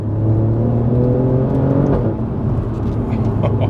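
An Alfa Romeo Giulia Quadrifoglio engine on a public road, heard from inside as a loud, steady low drone with faint whirring layered on top, holding an even pitch throughout with no talking.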